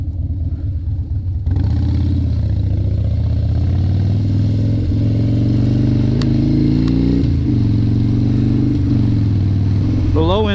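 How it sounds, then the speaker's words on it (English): A 2016 Harley-Davidson Dyna Street Bob with Vance and Hines long shots exhaust rumbles loudly while riding on a rainy day, a deep steady engine burble rising as it pulls through the gears, with a rider talking over it. "this thing just sounds so good. Those Vance and Heinz long shots are so worth the money."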